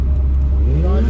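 A Fiat Marea Weekend engine revs up hard inside the car, a loud steady rumble with rising pitch, and a voice speaks over it.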